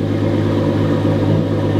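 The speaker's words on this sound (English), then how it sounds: "when I start the car, the valves stay open and don't shut straight away" A car engine cold-starting in the morning with its exhaust valves held open: a steady, deep idling rumble, close and moderately loud, with no talk.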